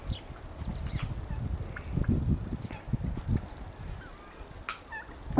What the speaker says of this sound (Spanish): ya tienen rato que se pelearon estos guajolotes